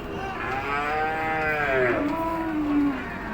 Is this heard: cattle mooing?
yes